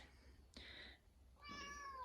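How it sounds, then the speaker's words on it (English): A cat meows twice indoors, a short sharp cry followed by a longer wavering meow, fairly quiet and close with no talk. "There's my cat."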